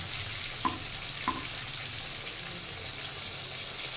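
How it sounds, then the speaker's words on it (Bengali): Bitter gourd frying in a pan over low heat, a steady soft sizzle throughout with two quiet clinks of a utensil near the start. "দেখুন ফ্রাইটা সুন্দর হচ্ছে কালারটা, আর কম আঁচে দেওয়াতে ভালো ফ্রাই হবে"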